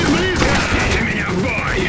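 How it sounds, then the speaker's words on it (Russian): Dense overlapping gunfire in Iron Harvest during a train hijacking mission, rapid bursts mixed with voices and sweeping tones, continuous and loud throughout. "В меня стреляют!"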